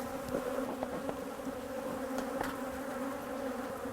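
Honey bees hum steadily inside an open hive box during a swarm-prevention check, a close, continuous drone with no talk over it.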